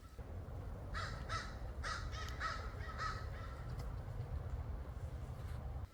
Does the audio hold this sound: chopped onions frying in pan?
no